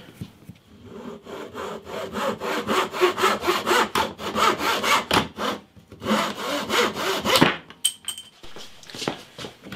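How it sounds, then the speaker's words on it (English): Hand saw cutting wood along the edge of a guitar neck, a rapid, close series of rasping back-and-forth strokes in steady rhythm, pausing briefly midway, then a few final strokes and quiet handling noises. "I'm going to have to cut that wood there, just on that edge."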